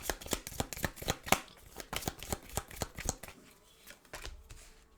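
Fortune-telling cards being shuffled and drawn, a fast run of crisp, close riffling slaps and flicks that thins out toward the end, with no talking.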